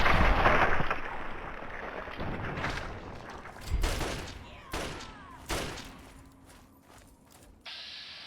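Pistol gunfire in Fallout 3, heard as a handful of sharp separate shots spaced a second or so apart over a background of game noise, with a louder burst at the start.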